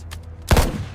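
A single sharp, loud gunshot cracks out in a battle scene, preceded by faint, distant pops and followed by a short decaying rumble.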